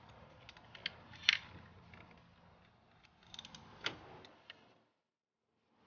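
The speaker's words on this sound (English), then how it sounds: "I'm going to grab the ratchet and just give it a quarter turn." A ratchet tightens a spark plug a quarter turn on an Audi engine, heard as a few faint, sparse mechanical clicks and ticks in a quiet setting with no talking.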